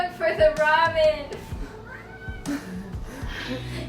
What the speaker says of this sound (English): Oh, meow meow! No! He found it.